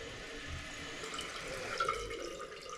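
Water steadily fills a toilet tank during a repair of a toilet leaking at the base, a continuous low hiss and rush heard close up with no pauses.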